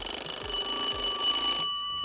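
An antique WWII-era Junghans Premiere Qualite alarm clock rings loudly and steadily, its bell a continuous metallic clatter close by that stops abruptly near the end.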